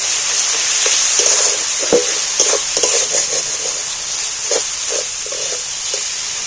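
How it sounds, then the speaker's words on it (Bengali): Meat and spices sautéed in a pan for a Bengali curry, a steady hissing sizzle broken by scraping and clinking stirring strokes, close by. "আবারও ভালো করে কষিয়ে নেব।"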